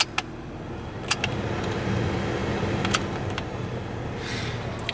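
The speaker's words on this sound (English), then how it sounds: "Let's get the heat on." A 2007 Toyota Matrix Base idles on a cold day as its heater fan comes on, adding a steady airy whoosh over the low engine hum, with a few sharp interior clicks near the start.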